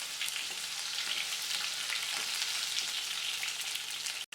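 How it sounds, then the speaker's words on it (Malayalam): Garlic cloves and small shallots sautéing with curry leaves and dried chillies for moringa-leaf sambar make a dense, steady sizzle that holds close and even, then cuts off abruptly at the end. "ഇതിലേക്ക് 3 അല്ലി വെളുത്തുള്ളി, ഒരു 15 അല്ലി ചെറിയ ഉള്ളിയും കൂടി ചേർത്ത് വീണ്ടും നന്നായിട്ട് വഴറ്റി കൊടുക്കണം"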